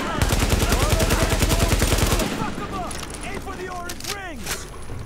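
In the video game The Division, rapid automatic gunfire rattles in a loud, fast burst for about two seconds, then gives way to scattered quieter shots and electronic whooshing effects.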